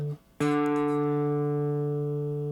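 Electric guitar rings out a two-note perfect fifth interval after a short muted lead-in, the chord struck once and left to sustain evenly and clearly with no voices.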